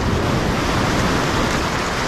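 Waves surge and wash steadily on the shore at Steps Beach in Rincón, Puerto Rico, a loud, continuous broadband roar with some wind buffeting the microphone and no voices.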